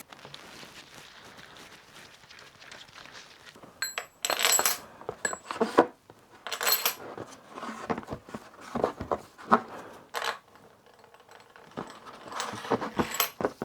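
Small metal bolts are picked up and handled during mechanical assembly near a gear position sensor, making close, irregular clinks and rattles in short bursts after a quiet start.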